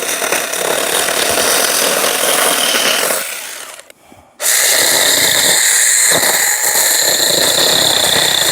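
A cordless 4-inch mini chainsaw on a battery pole saw cuts through wood with a loud, steady buzzing whine that dips briefly as the cut eases, then surges back at full power, close up with no talking.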